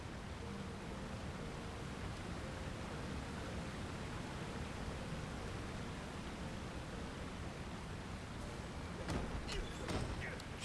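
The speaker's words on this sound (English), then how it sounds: "Headphone warning, the waterfall is loud." Loud, steady rushing roar of a waterfall in the LOTRO (Lord of the Rings Online) game world, continuous broadband noise throughout with a few brief sharper sounds near the end.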